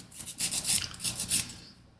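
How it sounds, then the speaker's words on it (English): Several quick, rhythmic scraping strokes, close by, of sandpaper rubbed back and forth over wood by hand, fading out at the end. "So what I'm doing here is just sanding off"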